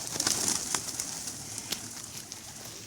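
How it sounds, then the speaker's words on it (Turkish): Pigeons flutter and flap their wings nearby as they are fed by hand amid a busy outdoor bustle, with soft cooing faintly underneath. "Kuşlar yağdı şimdi onlara yem veriyordum."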